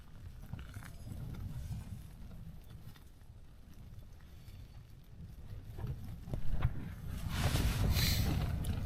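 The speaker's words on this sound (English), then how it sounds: "it's a bit wet and wild outside this morning." Steady wind and rain buffet a tent while wild camping in Swindale, with a low rumble and rushing, growing louder toward the end, with faint patter of rain on the tent fabric.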